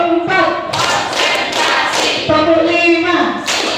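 A group of teachers at a training session claps out a numbered rhythm pattern, sharp clustered hand claps in quick bursts, mixed with a voice and a steady tonal hum in the room.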